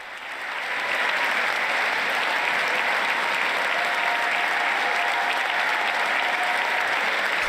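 A large audience at the 2022 State of the Union address applauds and cheers in a steady, loud, sustained wash of clapping that swells in over the first second and holds to the end, with no talk over it.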